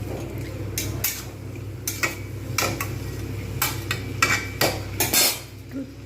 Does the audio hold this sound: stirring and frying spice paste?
yes